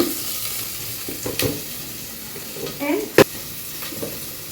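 Whole garam masala is stirred in a prawn biryani pot. A soft sizzle runs under scraping stirs and a few clinks, close by, with a brief voice in the background.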